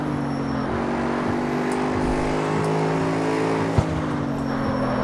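Car engine in the CarX Street racing game revving on the throttle, a steady loud motor drone with gear-shift steps in pitch and a brief knock near the end, no talk.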